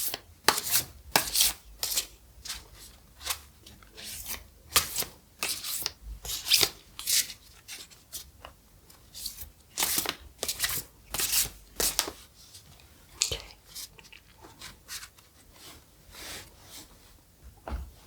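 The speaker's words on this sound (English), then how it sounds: "let's give these a shuffle and pull a couple example cards" A deck of tarot cards shuffled close up, with repeated crisp riffling bursts and soft rubbing card sounds in an irregular rhythm, each flurry separated by brief quiet pauses, with no talking.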